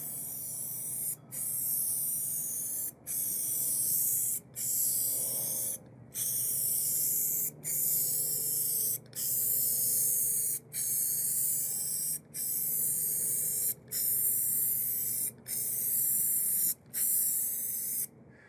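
Lac R' Shot lacquer wood finish hisses from an aerosol can in a steady run of about a dozen long, even sprays. Each lasts over a second, with brief gaps between them, loud and close.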